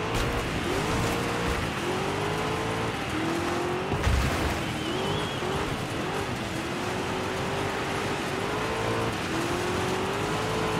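Ford Mustang race car in Dirt 5: a loud engine drones and revs up and down through repeated gear changes, with one brief thump midway and steady tire and road noise beneath.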